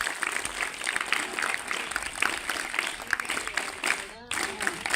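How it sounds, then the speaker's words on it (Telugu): Students at a high school event clap together in a dense, steady wash of applause that fills the room, briefly dropping off near the end before picking back up, with some voices mixed in. "అది కూడా మీరు స్వాగతిస్తూ ఒక్కసారి క్లాప్స్ కొట్టండి"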